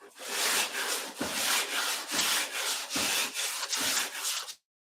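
Sandpaper scrubbing by hand across a car body panel, loud and close, in steady back-and-forth strokes with brief pauses between passes, then stopping abruptly near the end.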